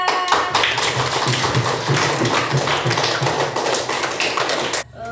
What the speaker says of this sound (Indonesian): Beri tepuk tangan dulu untuk kita.